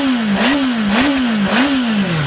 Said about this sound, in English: Let's have a listen to that engine, sans wing mirrors.